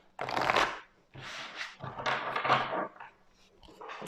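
Tarot cards being shuffled and drawn close up, in three or four quick riffling bursts separated by short pauses.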